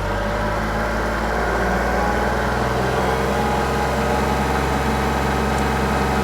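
A tractor engine runs steadily while driving a brand new RuggedMade 3 point hitch log splitter, a loud continuous drone with a low hum that deepens slightly partway through as the revs change.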